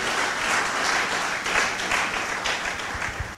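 A church congregation breaks into sustained applause, dense clapping from many hands filling the room for a few seconds and then fading slightly.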